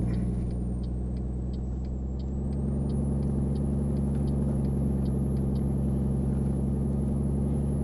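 Peterbilt 351 truck in Euro Truck Simulator 2, a steady deep engine rumble with a constant low drone and faint rhythmic ticking, close and continuous throughout.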